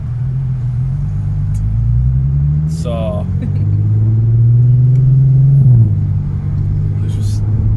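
A Volkswagen Golf R32 Mk5 with its VR6 engine and DSG gearbox revs under load, a steady deep engine drone rising and dipping in pitch with a gear change, close and loud, with a voice speaking over it.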